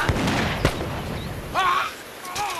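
Gunfire from guards in a period naval drama, a couple of sharp bursts at the start amid shouting voices, with a brief whistling tone later.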